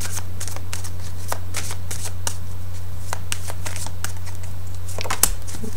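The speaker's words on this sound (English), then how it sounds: "So I'm going to go ahead and get shuffling here" A fairy tarot card deck is shuffled by hand in a quiet room, with a quick series of crisp riffling and snapping bursts, irregular and close, over a low steady electrical hum.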